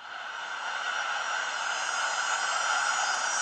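Steady broadband whooshing, like wind or rushing air, from a summer weather animation on an Oppo Find 7 phone's weather app, holding loud and even throughout with no talking.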